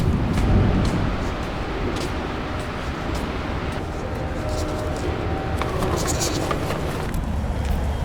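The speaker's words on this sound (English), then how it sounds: "I started up the truck with the phone app." Pickup truck engine idling steadily after a remote start from a phone app, a continuous low rumble heard close by with constant loudness throughout.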